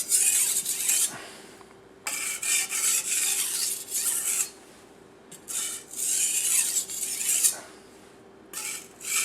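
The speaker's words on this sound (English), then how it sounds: "I am sharpening at about 15 degrees." Steel knife blade scraping across a 400 grit sharpening stone in repeated rasping strokes, each lasting a second or two, close up, with short pauses between the strokes.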